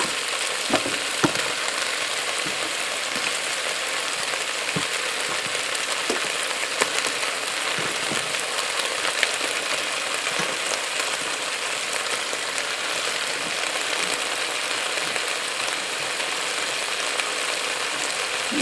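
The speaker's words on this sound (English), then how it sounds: "I'm going to add the mushrooms next." Mushrooms go into a hot Cosori multi cooker pot for a bison stew, and a dense, steady sizzle and frying hiss fills the whole stretch with occasional small pops and stirring clicks, close and loud, with no voices.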